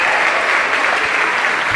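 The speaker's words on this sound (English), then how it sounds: "Can we give another round of applause for the great job that they did?" Audience applause for student performers at a school winter instrumental concert, a dense, steady wash of clapping filling the hall for nearly two seconds without a break.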